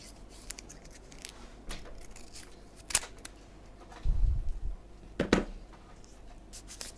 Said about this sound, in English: Again fold it in middle and cut into 2 halves